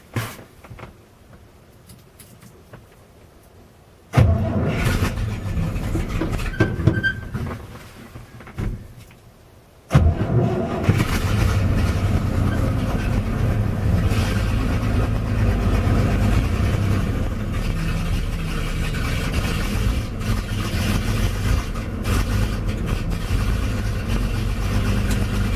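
A 1961 GMC 5000 truck engine cranks and catches on a cold midwinter day, then settles into a loud, steady, rumbling idle that runs on close by, after a quiet stretch and a few clunks.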